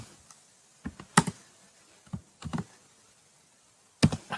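Typing on a computer keyboard while writing JavaScript code, with scattered bursts of quick key clicks separated by short pauses, close and clear, with no voices.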